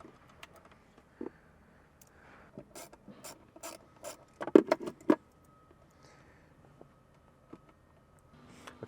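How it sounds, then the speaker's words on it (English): Small ratcheting socket backing out 10mm bolts inside a Toyota Tacoma center console, a few quick bursts of clicking around the middle, then quiet handling noises. "With this small ratcheting socket"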